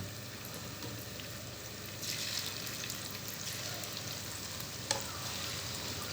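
Pieces of chicken 65 fry in hot oil, giving a soft, steady sizzle and bubbling that swells slightly partway through, with a small clink near the end and no voices.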